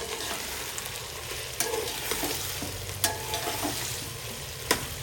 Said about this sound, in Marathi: सोयाबीन असं टाकायचं आणि जरा हलवून घ्यायचं आता